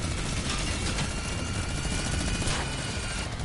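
A steady droning aircraft engine whirs continuously from planes in an aerial battle royale game, loud and unbroken throughout without talking.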